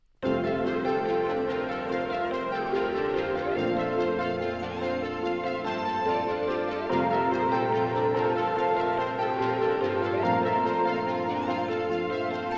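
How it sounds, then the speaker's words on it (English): The full main melody of a song plays with all its layers together, a dense, loud, continuous mix of synth lines over a moving bass, its arrangement shifting in sections every few seconds, with no voices. "So everything put together, the main melody of the song sounds like this."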